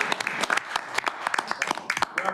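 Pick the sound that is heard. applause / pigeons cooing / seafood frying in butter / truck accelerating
applause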